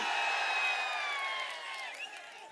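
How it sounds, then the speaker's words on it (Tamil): A crowd cheers and roars at an AIADMK election campaign rally for Edappadi Palaniswami in Thiruvarur town, a dense, sustained wash of voices with shrill whistles that eases slightly toward the end. "திருவாரூர் நகரத்தில் எவ்வளவு எழுச்சி, ஆரவாரம், மகிழ்ச்சி."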